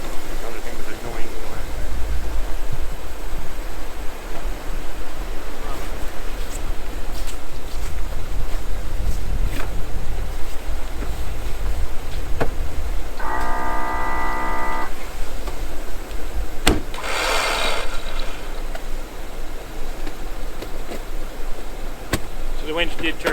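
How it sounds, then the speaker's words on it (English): The winch on a Jeep 4xe briefly whirs as a steady mechanical whine on a winter trail, heard over constant wind noise, with people talking nearby. "The winch did turn, yes?"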